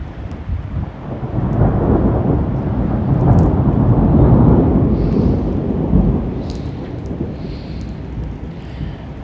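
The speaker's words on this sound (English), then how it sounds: "that was just a really cool lightning strike over there" Deep thunder from a lightning strike during a severe thunderstorm on Long Island rumbles loud and sustained for several seconds, swelling in the middle before slowly fading, with rain and wind noise underneath.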